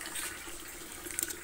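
A kitchen tap runs in a thin, steady stream, fairly quiet and unbroken, with no talking.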